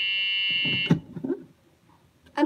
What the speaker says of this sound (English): I'm sorry about that beep noise.